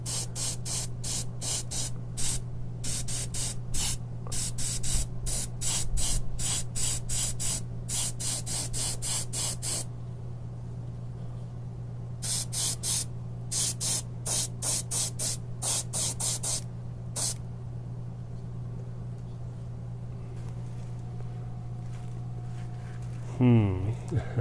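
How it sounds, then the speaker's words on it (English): UV paint sprays onto cardboard in rapid, repeated hissing bursts, close and loud over a steady low hum, with longer pauses between the later bursts. "So I'm spraying mostly on the actual cardboard and letting it spill off a little bit"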